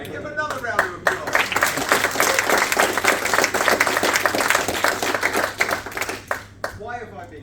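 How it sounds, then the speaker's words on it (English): A lounge crowd bursts into applause after a call for another round, dense clapping that swells quickly, holds steady, then thins toward the end, with brief voices at the start and finish. "Give him another round of applause."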